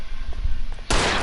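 A single loud, close gunshot in the video game L.A. Noire cracks sharply after a stretch of low background rumble, its broad blast lingering to the end.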